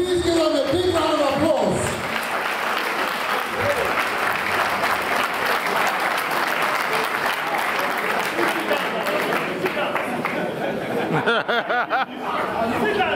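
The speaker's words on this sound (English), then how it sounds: "A round of applause." Big crowd applause at a class reunion gathering for alumni from the 1950s, starting after a brief voice and building into sustained clapping mixed with chatter and light laughter, then tapering near the end.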